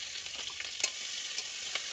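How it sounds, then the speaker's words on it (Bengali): Panch phoron, dried chillies and ginger fry in hot oil, a steady close sizzle with small crackles and pops and no talking. "তেল গরম হয়ে গেছে, তার মধ্যে পাঁচফোড়ন, শুকনো লঙ্কা, আদা আর লঙ্কা ভাজা।"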